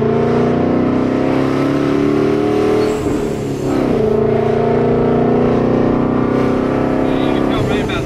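A Ford Mustang S197 engine drones with a steady, rich, loud note while the car is driven, the pitch shifting as it revs and eases off through the run.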